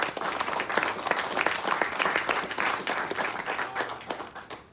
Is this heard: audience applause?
yes